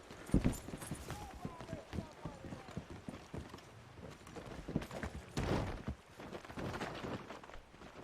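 A wild horse in a Red Dead roleplay game trots along with a steady clip-clop of hooves, close and moderately loud. People talk over the hooves.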